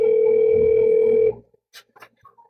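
A steady telephone dial tone hums loudly for just over a second while a call is placed, then cuts off, leaving a few faint, scattered sounds.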